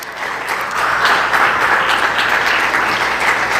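Church congregation applauding together during a worship service, a steady dense wash of clapping that holds loud and even throughout without pause.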